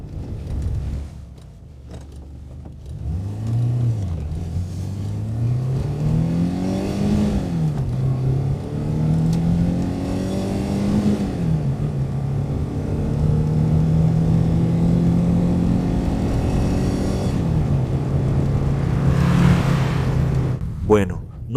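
A 1982 Renault 5 Alpine Turbo Gordini with its small turbo engine pulling onto a main road, the engine note rising through the gears in steady climbs, loud inside the cabin with no talk over it.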